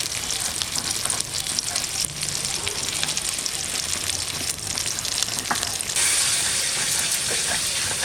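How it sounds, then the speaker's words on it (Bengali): Katla fish pieces deep-frying in hot oil, a loud crackling sizzle close by throughout, with clinks and scrapes of a turner and the spatter rising sharply toward the end. "মাছ ভাজা হয়ে গেছে, এখন তুলে নেবো।"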